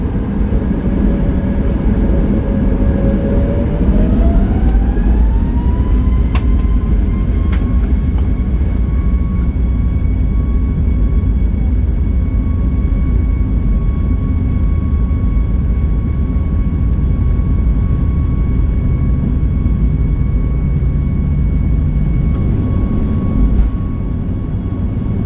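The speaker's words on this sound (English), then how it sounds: "the engine started to spool up for takeoff" Airbus jet engines of a Play Airlines plane spool up for takeoff, a loud, steady roar heard from inside the cabin with a rising whine that climbs and then holds steady for the full stretch.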